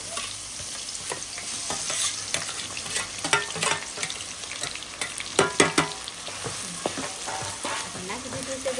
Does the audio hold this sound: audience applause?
no